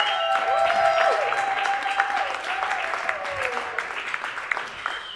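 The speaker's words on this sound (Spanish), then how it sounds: "Fuerte ese aplauso." An audience at a literary talk on Gombrowicz and Borges breaks into sustained applause to welcome a guest, loud at first and slowly thinning, with a voice carrying over the clapping.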